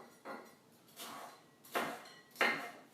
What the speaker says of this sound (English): So we're just going to chop up some of these orange peppers.